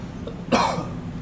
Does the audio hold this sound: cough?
yes